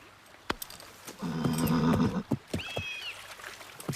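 Horses on a forest trail whinny loudly at a rest stop by water, a long neigh followed by a second shorter one, with scattered hoof clops and thuds around them and no talking.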